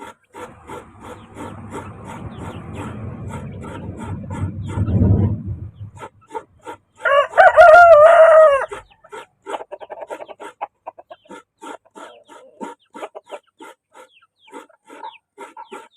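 A rooster crows once, loud and close, amid steady scraping and knocking sounds, with rhythmic tapping continuing afterward.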